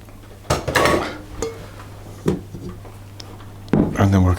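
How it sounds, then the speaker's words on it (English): A utensil scrapes and knocks against a bowl in a few separate bursts while chocolate cookie batter is mixed, with a steady low hum underneath and a voice speaking. "we'll carry on just mixing this to make sure we're getting all the chocolate into the egg"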